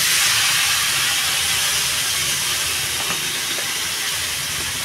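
Bottle gourd poured into a hot pan for a fish lau ghonto, setting off a loud, dense hiss of sizzling that stays strong and eases only slightly over the seconds.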